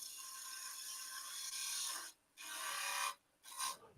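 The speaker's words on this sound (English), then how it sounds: "It's actually a 1/2-inch spindle gouge." A 1/2-inch spindle gouge cutting wood on a lathe makes a close, bright scraping hiss that runs steadily, then breaks into short passes separated by brief pauses.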